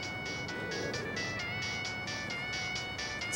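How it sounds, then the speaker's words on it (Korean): A phone rings with a repeating electronic melody, steady pulses of bright tones over a low background rumble, loud and close throughout. "전화 왔네요."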